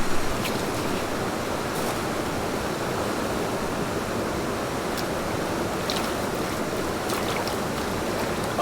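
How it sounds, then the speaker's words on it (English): A river stream flows steadily in a broad, noisy rush at a gold panning spot, close and constant throughout with no talk. "here we are down at the beautiful river on my dream claim"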